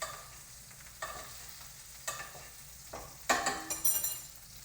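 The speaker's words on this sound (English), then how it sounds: "if you throw a little butter in the pan, and you got the garlic and the thyme in there" Butter sizzles in a frying pan with garlic and thyme while a spoon bastes, giving soft spoon scrapes and clinks roughly once a second over a low crackle.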